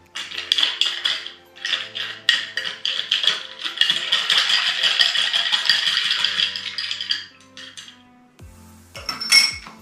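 Spoon clinking and rattling against glass while stirring a pre-mix of Schweppes tonic for a gin cocktail, a busy run of close metallic chinks with a brief quieter pause near the end before a final burst.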